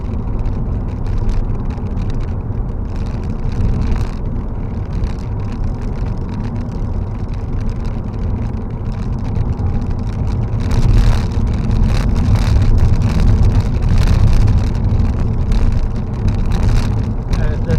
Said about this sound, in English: currently in 4th gear, it does take a little bit to accelerate in the gear